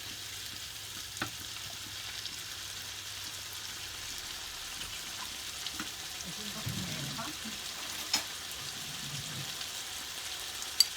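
Steady faint sizzle of seafood frying in a pan for a paella made with fish and seafood, with occasional soft clinks and scrapes over the continuous hiss.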